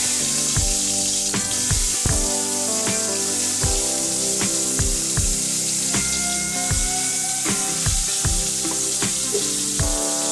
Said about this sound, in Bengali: তেল গরম হয়েছে এখন আমি তেলে বেগুনগুলো ছেড়ে দিই